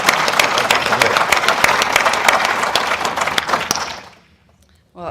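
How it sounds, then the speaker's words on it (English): An audience at a talk about the Big Sioux River applauds a guest speaker, a dense burst of clapping that holds steady for about four seconds, then fades out quickly before a brief sound at the very end. "Let's give our guest a round of applause."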